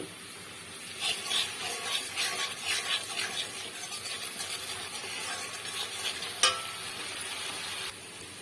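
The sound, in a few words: spice paste being stir-fried for pomfret mustard curry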